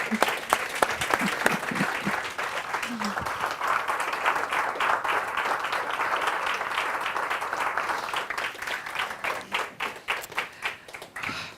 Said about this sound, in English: I think we need to stand up and give Colleen a round of applause.